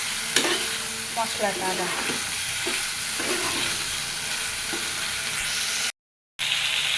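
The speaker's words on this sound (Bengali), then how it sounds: "আলু দিয়ে সুন্দর মতো কষাবো" Potatoes sautéed with spices in a pan hiss and sizzle steadily up close, with stirring scrapes and a few brief spoken words over the frying before a short dropout near the end.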